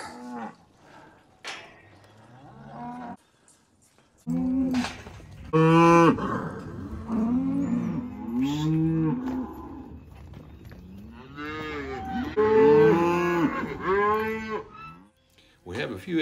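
Cattle mooing on an Ozark ranch, cows and calves calling in repeated drawn-out lows and bawls, several overlapping at close range, with quieter gaps between calls.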